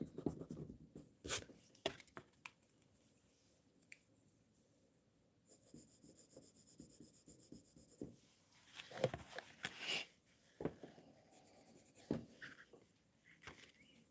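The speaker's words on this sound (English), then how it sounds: "Let me erase this here." An eraser rubs over part of a pencil drawing in short scrubbing bursts, close and faint, with pauses and light paper handling between strokes.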